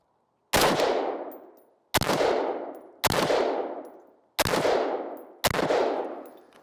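Five rifle shots from an AR clone with a 20-inch barrel crack out at roughly one-second intervals, each loud and sharp with a ringing decay, heard outdoors with no talking.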